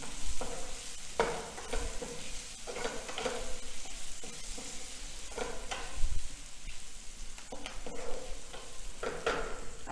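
Potatoes being sautéed with salt and red chili powder for jeera aloo sizzle steadily in the pan while a spoon scrapes and tosses them in repeated, uneven strokes, close and moderately loud.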